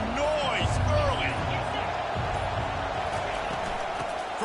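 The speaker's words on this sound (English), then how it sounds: "This crowd bringing the energy and noise early." Stadium crowd roar in the NCAA 25 college football video game, a steady dense wash of cheering and noise held throughout, with scattered thumps and a commentator-style voice partly over it.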